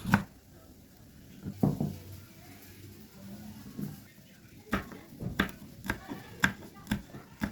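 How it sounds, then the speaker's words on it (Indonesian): Knife chopping shallots into small pieces on a cutting board while preparing sate maranggi, a run of sharp close taps clustered toward the end, with quieter handling noise earlier. "Di sini ada bawang merah, di sini kita potong kecil-kecil"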